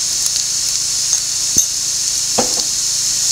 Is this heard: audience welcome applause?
no